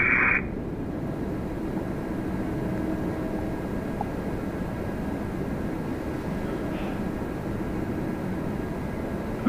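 A WestJet Boeing 737 Max 8 arriving from Calgary at Toronto Pearson, heard as a steady, broad engine roar that holds at an even level throughout, with no voices over it.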